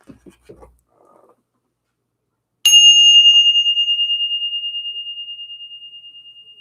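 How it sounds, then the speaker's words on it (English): A ritual bell is struck once to clear the energy, giving a bright, clear ring that sustains and slowly fades over several seconds after a few faint soft handling sounds. "Let's ring the bell."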